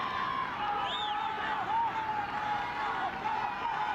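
Loud stadium crowd roaring steadily through a women's international football match between Brazil and Colombia in San Diego, with a commentator's voice riding over the dense cheering.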